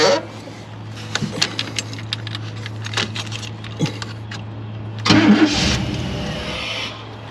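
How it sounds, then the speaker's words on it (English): A Chevrolet Kodiak truck engine cranks after a few sprays of starting fluid, with faint clicks and rattles, then catches and fires with a louder rumble close by. "just give it a few sprays and then crank smooth and starts up"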